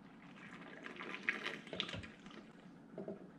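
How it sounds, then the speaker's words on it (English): Water poured from a container through a clogged body drain port on a Porsche Cayenne or Volkswagen Touareg, a soft, steady trickling and splashing heard up close at low level with no talk. "take just a little bit of water and in some type of container that you can easily pour it, then just put it right here and then pour it straight through"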